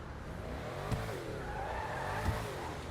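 A Pfister Astron SUV in GTA Online launches hard, with a droning, rising engine note and tire squeal and two brief thumps as it accelerates.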